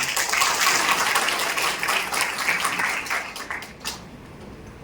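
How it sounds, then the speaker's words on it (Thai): A crowd at a Bumrungrad hospital digestive and liver center event applauds with dense, steady clapping that fades out near the end. "ขอเสียงปรบมือด้วยครับ"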